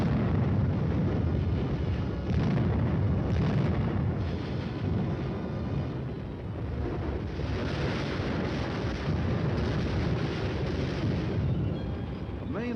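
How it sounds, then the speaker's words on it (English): An artillery barrage on an enemy strong point, with dense continuous rumbling booms of gunfire and explosions rolling together in a loud, heavy roar across the whole stretch. "A platoon leader calls for artillery fire on an enemy strong point which stands in his way."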